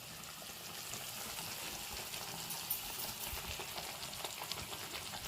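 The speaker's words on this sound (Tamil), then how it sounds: "இது தக்காளி நல்லா கொதிக்கணும்" Tomato chutney with turmeric and chili powder bubbling and sizzling in a pan, a continuous close crackling hiss with small pops and bursts, no voices.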